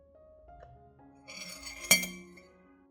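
A metal spoon clinks sharply against a glass cup, with softer tinkling and scraping before and a ringing tone trailing after the main strike.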